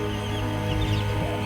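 Backyard hens cluck softly and continuously in a brief, close burst with no talking.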